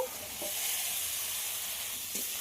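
Pieces of giant taro and potato being stir-fried with spices in hot oil, giving a steady close sizzle with soft stirring scrapes throughout.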